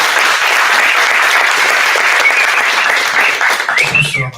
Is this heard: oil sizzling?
no